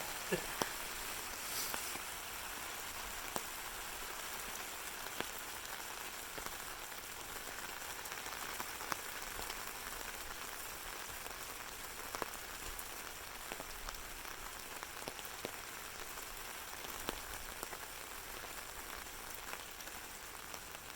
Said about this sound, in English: Oh no, the rain.